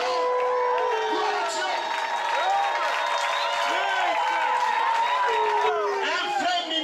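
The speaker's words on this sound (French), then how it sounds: "Acclamons pour le pasteur" A church congregation in Libreville, Gabon cheers, claps and calls out loudly for their pastor, a continuous roar of voices with ululating cries rising above the applause.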